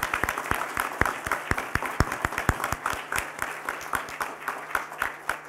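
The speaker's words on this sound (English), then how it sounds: "That warrants a hearty round of applause." Hearty applause from a live audience at a computing education event, many hands clapping in a dense, steady stream of sharp claps with no talking over it.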